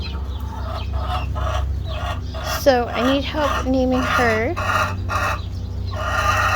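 A backyard rooster, once mistaken for a hen, clucks in a rising, wavering call at close range, sounding over a steady low hum while a person talks before and after.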